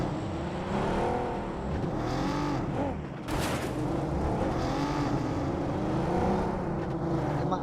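A car driven in a multiplayer video game match hums with a steady engine drone whose pitch swoops up and down as it accelerates and slows, with a brief sharp burst midway.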